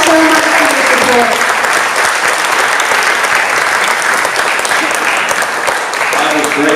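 Enthusiastic audience applause for a high school robotics team: dense, loud clapping that carries on without a break for the whole stretch, with faint voices at the edges.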